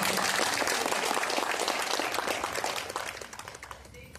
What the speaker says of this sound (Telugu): గుర్తుపెట్టుకున్న వాళ్ళందరికీ గట్టిగా చప్పట్లు కొట్టండి సార్